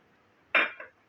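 A metal pan is set down on a stovetop before frying, giving a single close clink with a brief secondary knock, then quiet.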